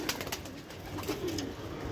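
Pigeons of a single feather-footed breed coo in a rooftop loft, low soft murmuring throughout, with a brief rising coo in the middle over steady outdoor background noise.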